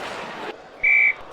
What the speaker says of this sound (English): Whistle and a foul on Bantam